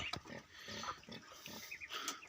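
A pig penned with another in a farmyard pen grunts and squeals in short, close bursts, several calls in quick succession over faint background noise.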